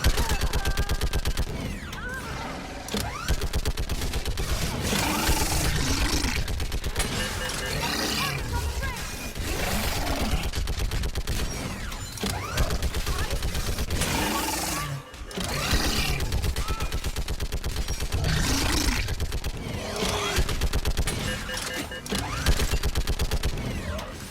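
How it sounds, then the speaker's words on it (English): Sustained rapid gunfire from the video game Mass Effect 3 in a combat scene, dense continuous bursts like automatic weapons with brief pauses, loud and close, with speech mixed in underneath. "Keep firing."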